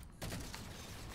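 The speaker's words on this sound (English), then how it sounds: "Oh, that's a grenade." A grenade goes off in a Halo video game, a sudden loud blast after a quiet moment, followed by a rumbling, noisy tail with scattered crackle and no talk.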